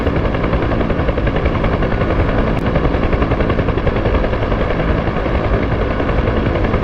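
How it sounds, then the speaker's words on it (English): A Huey helicopter flying in a combat search-and-rescue flight simulator game: a loud, constant rotor drone with rapid chopping pulses, steady throughout and uninterrupted by speech. "Especially if you're new to flying helicopters, especially the Huey"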